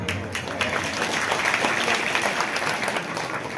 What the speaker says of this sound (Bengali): আপনারা নিজেদের জন্য নিজেরা একটা হাততালি দিন